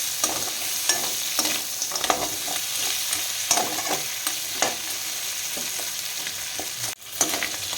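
Crab sizzles in a pan with a steady hiss, punctuated by repeated scraping stirs and clinks of a spatula.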